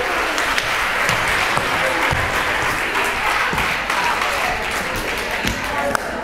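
An audience at the Awakenings 2022 event applauds a performance with another round of clapping, dense, loud and unbroken throughout, with voices faintly mixed in.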